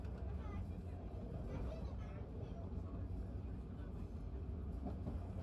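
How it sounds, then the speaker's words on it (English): A goods train runs along the Botany goods line behind Marrickville Station in Sydney, heard from the cab as a steady low rumble with faint rhythmic wheel clatter on the tracks. "As our train runs behind Marrickville Station"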